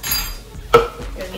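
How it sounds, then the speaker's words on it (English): A spoon is picked up in a kitchen, giving one bright metallic clink among faint softer handling noises nearby. "grab a spoon"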